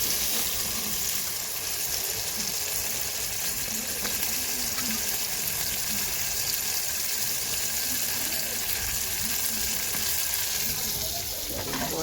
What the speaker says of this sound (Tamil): பாருங்கள், கறி போடுறேன்.